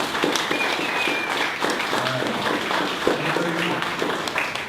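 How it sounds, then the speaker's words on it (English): An audience claps in a sustained, dense round of applause at the end of a talk, steady and fairly loud throughout with no voices standing out. "let's give one final round of applause to Vielmetti."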